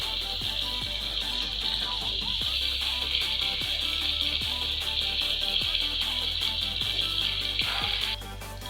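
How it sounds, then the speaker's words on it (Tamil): Tomato paste for a dry fish gravy sautés in a pan with a steady, close hiss of sizzling that runs throughout, broken by faint clicks and cutting off near the end. "நல்லா வதக்கலாங்க"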